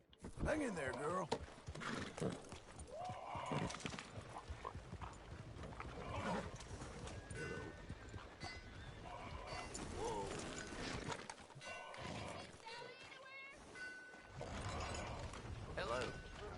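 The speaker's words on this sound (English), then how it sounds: "Remember to rest that horse sometime." Horse hooves clip-clopping in Red Dead Redemption 2, a busy rhythmic clatter of hoofbeats mixed with creaking tack and game sounds, with voices talking over much of it.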